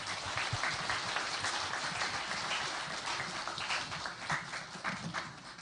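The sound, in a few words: applause for a spelling bee competitor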